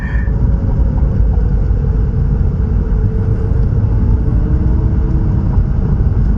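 A steady, low exhaust rumble from a Mitsubishi Galant VR-4 with a newly installed catback exhaust runs throughout, fairly quiet and smooth, with subtle shifts in pitch as gears change.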